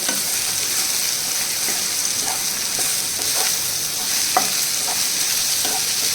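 Mango curry with onion pieces and the mango seed is stirred in a hot pan, giving a steady close sizzle broken by intermittent scraping strokes of the spoon, with no talk.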